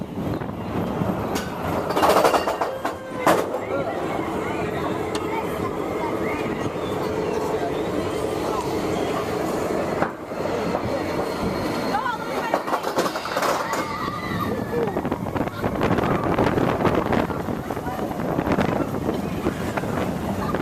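Expedition Everest roller coaster train at Disney, a loud continuous rumble of wheels on track with heavy wind buffeting the microphone and some crowd noise, steady throughout the ride.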